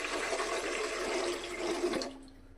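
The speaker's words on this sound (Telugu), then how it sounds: "2 గ్లాసెస్ వాటర్ ఇలా వేసుకోండి" Two glasses of water poured into a pot on a stove, a steady close splashing pour for about two seconds that stops abruptly, leaving quiet room tone.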